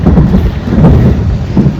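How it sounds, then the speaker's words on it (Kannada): Thunder rolling during a rainstorm, a loud, low, continuous rumble with rain hiss underneath, pulsing gently in intensity over a short stretch with no voices. "ಸಿಡ್ಲು ಮಳೆ ಎಲ್ಲ ಬರೋ ಸಾಧ್ಯತೆ."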